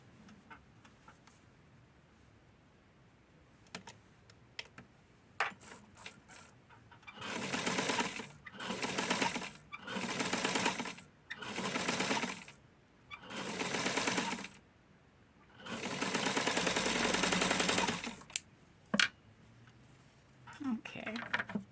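A sewing machine stitches a shirt collar in six separate bursts of steady, fairly loud running, each a second or two long with short pauses between. The last run is the longest, and the quiet gaps hold soft handling noise.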